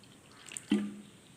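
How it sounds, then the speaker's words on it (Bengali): Water trickles in short additions into a bowl of gram flour batter, a faint soft pour followed by a small splash and a wet drip at the end. "অল্প অল্প জল দেবো"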